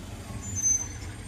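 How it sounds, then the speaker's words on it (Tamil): An egg lorry's air brakes release a faint, brief high hiss over a low rumbling truck engine heard from a distance. "அங்கே பாருங்கள், முட்டை லாரியில்"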